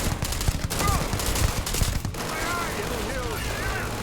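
Rapid bursts of video game gunfire crackle through a shooter match on very difficult mode, a string of shots repeated over several seconds, with a voice talking faintly in the background.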